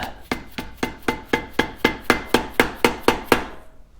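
A hammer taps a greased bushing fitted with O-rings into place, about thirteen evenly spaced, sharp metallic knocks at a steady rhythm, close and fairly loud, with no voices.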